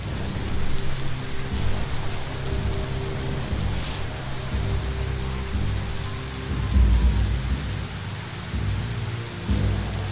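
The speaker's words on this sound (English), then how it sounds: "It's starting to rain." Steady rainfall in the video game Biomutant patters over a low rumbling backdrop, with occasional distant thunder swelling underneath; no voices.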